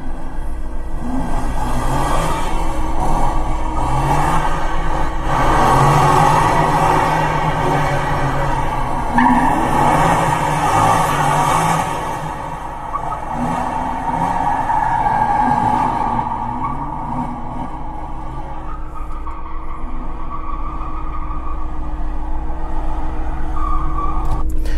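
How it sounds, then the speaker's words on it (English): Car drifting with screeching tires and a revving engine, played back through a device speaker, a continuous loud mix of engine roar and tire squeal. "I have here a video of me drifting around in the LS,"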